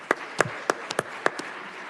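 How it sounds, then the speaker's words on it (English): A small council meeting audience gives a short round of applause, with a few separate, sparse claps spaced across about two seconds. "I'd like everyone to give her another round of applause."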